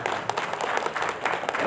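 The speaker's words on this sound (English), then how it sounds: "For Professor Gusi, give a lot of applause." Conference audience applause, a brief burst of scattered clapping at moderate level with faint background murmur.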